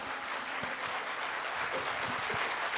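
Applause from the audience at a mushaira poetry gathering in Azamgarh after a song, a steady, moderately distant patter of many hands clapping, continuous throughout with a few low thumps and no speech.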